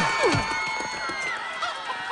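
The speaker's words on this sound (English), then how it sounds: "Out of my way, chickens!" Chickens cluck in Minecraft Story Mode, a few short squawks and clucks sounding over a busy game soundtrack and background bustle, moderately loud and close.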